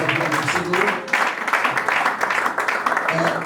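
A church congregation at a worship service applauds in steady, continuous clapping, close and fairly loud, with voices mixed in throughout.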